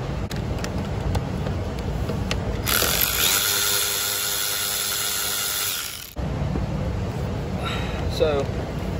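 An electric ratchet works loose bolts on a 6.7L Powerstroke diesel engine, giving a steady high-pitched whirring buzz for about three seconds in the middle of a noisy shop with background hum.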